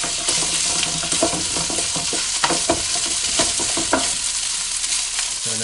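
Cooked rice frying with garlic in a pot, a dense continuous sizzle broken by sharp scraping and stirring clinks from a utensil, close and fairly loud with no talking.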